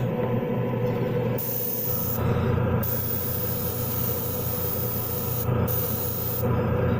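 Steady hiss of an aerosol spray paint can, nearly continuous for several seconds with brief gaps in the bright high hiss, close up.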